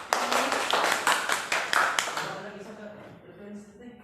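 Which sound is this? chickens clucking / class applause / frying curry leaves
class applause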